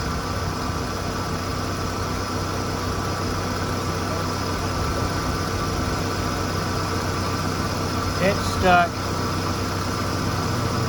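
A steady engine idles with a constant low hum and vibration, while a person speaks briefly near the end.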